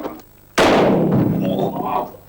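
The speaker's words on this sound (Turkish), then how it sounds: "Neydi o silah sesi?" A single loud, sharp gunshot in a Turkish TV comedy sketch, bursting abruptly after a quiet moment and ringing out briefly.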